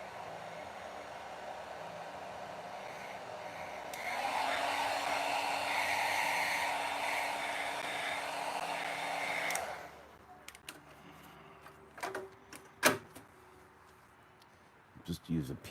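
A hair dryer blows on wet paint on a small painted miniature figure, switching on with a steady loud whoosh for about six seconds, then cutting off into quiet handling clicks and taps.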